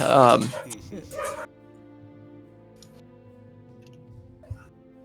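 During a tabletop Dungeons & Dragons session, a person's voice imitates a dog's bark in a couple of quick, loud yaps, followed by quiet room tone.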